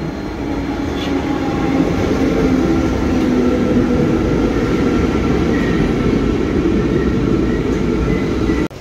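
An old NS SGM Sprinter commuter train runs by nearby, a loud, steady rumble and rail roar that holds for almost nine seconds and cuts off abruptly at the end.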